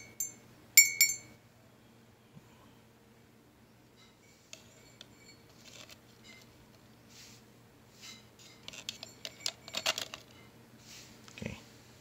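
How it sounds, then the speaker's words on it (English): A K-type thermocouple probe clinks against ice cubes in a glass, with sharp bright ticks early on, then a cluster of rattling clinks and knocks toward the end, near and fairly quiet. "we're gonna put it in the ice cube glass"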